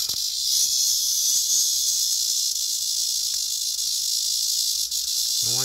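A cicada buzzes after being caught and brought indoors by a small dog, making a loud, continuous high-pitched drone that holds steady throughout, close by.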